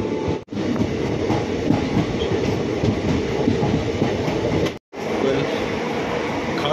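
Sealdah–Saharsa Hate Bazare Express sleeper-class train running on rails, a loud steady rumble with rhythmic clatter from the wheels, briefly cut twice and then resuming.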